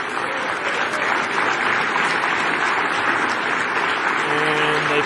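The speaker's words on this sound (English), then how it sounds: "And they clap like seals." Audience clapping, a steady dense patter of applause filling the whole stretch at moderate loudness.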